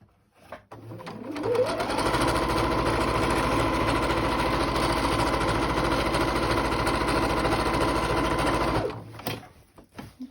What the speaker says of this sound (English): Sewing the lining and the outer fabric together.